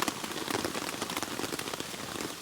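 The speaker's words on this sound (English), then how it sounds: "you can't hear anything apart from the rain bouncing off the top of the tent" Rain bounces off the top of a tent in a forest, a dense, steady patter of close drops drumming continuously without a break.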